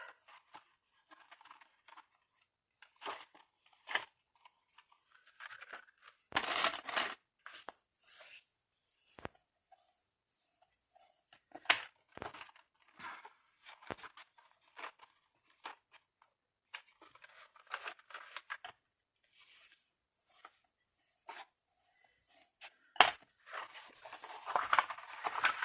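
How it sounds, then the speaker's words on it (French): Paper being creased and scored while marking the folds of a cardboard Santa's-car advent calendar model: scattered soft rustles, crinkles and short scraping taps, close and fairly quiet, with brief gaps between bursts. "Maintenant, je vais marquer tous les plis."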